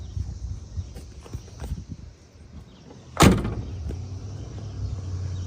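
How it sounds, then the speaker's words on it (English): A car door on a 1976 Chrysler Cordoba at a cruise night, with soft handling sounds and then one sharp solid slam of the door closing, followed by low outdoor background noise. "Doors open nicely, open really nicely. And they close nicely."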